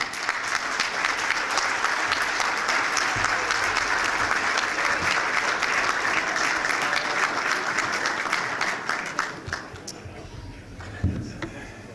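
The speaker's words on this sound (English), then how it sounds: "Let's have a round of applause for Albert Hamra, 90 years young." A room of attendees at a chamber of commerce breakfast applauds steadily for about nine seconds, then the clapping thins into scattered claps and murmuring.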